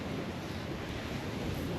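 Surf rolls onto a beach in Liberia under steady wind buffeting the microphone, a constant broad wash of waves with no distinct breaks over the short span.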